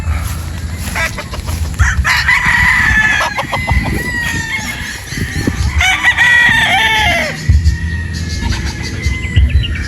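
A Boston Roundhead rooster, a Boston Brown Head brood stag, crows loudly and repeatedly up close, its drawn-out calls layered over clucking and chirping from other fowl nearby.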